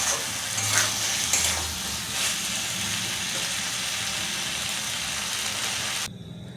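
Meat is stir-fried in oil for a Bengali kosha mangsho, with a dense, steady sizzle and stirring scrapes close by. A brief low hum sounds early, and the sizzle cuts off near the end.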